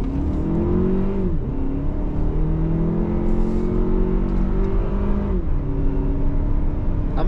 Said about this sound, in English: We definitely heard the engine, but it tailed right off when I got up to my 70